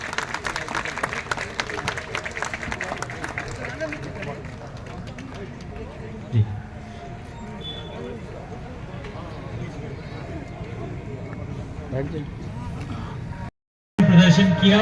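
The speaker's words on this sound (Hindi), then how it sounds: "तालियों की गड़गड़ाहट रुकनी नहीं चाहिए।" Applause and crowd noise roll through a political rally in a Haryana village, a long dense patter of clapping that holds steady and fades slightly before a brief cut, with a loud voice over a speaker system at the very end.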